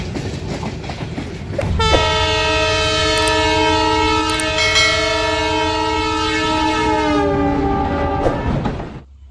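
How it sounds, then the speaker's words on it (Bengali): Bangladesh Railway train at a station where three trains cross, a long, loud, steady horn blast sounding for several seconds over the rumble of rail movement. "দুই নম্বর লাইনে বাংলাবান্ধা বসে আছে তিন নম্বরে রংপুর প্রবেশ করছে"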